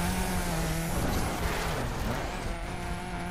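A car drives in the video game The Crew, its engine droning steadily with faint tonal whines and rising pitch sweeps, alone at a moderate level.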